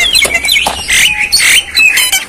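A tame Javan myna (jalak kebo) calls loudly and close, a run of shrill whistles, squeaky chirps and rising notes with brief gaps, alone without talk.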